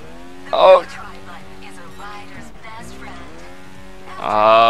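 A motorbike engine in Trials Fusion revs with wavering pitch as the throttle is held, and two sharp, louder bursts break in near the start and the end.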